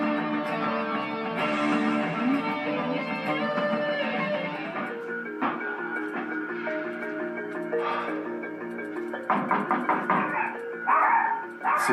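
A small dog barks territorially and with frustration from behind a door, sharp repeated yaps over a dense, continuous background of tonal noise, the barks growing more frequent toward the end.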